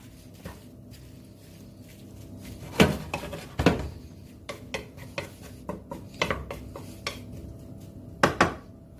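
Onion, salt and olive oil are stirred together in a bowl, with irregular metallic clinks and scrapes of a utensil against the bowl over a quiet background, including a few louder knocks.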